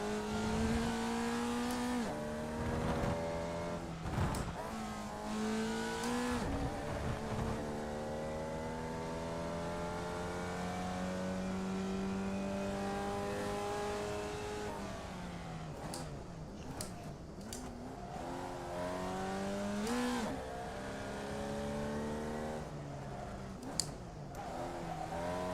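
Formula V race car engine in a racing video game at the Okayama circuit, a continuous high revving whine rising and falling through gear changes, steady and close.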